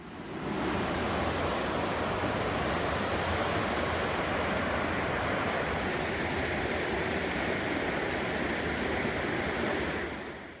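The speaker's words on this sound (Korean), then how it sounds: "계곡 물살이 마치 놀면서 흐르는 곳이라는 뜻입니다" A mountain valley stream rushes over rocks with a dense, continuous broadband roar. The sound stays close and steady from start to end, with no voices.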